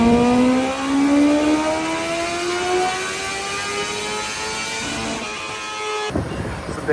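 A car engine rises steadily toward redline on a dyno in a shop, a loud climbing tone with many harmonics that builds for several seconds before cutting off sharply, followed by a high whine.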